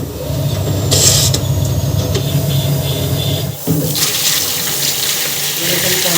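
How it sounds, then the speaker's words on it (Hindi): Bucket of water poured into a washing machine under repair, a loud rushing, splashing pour with mechanical creaks, briefly interrupted before the water noise resumes. "पानी के बाल्टी डाल दी है।"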